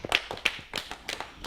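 A small group of children claps for a classmate in a classroom, a short scattered burst of light, uneven handclaps heard close and fairly quiet.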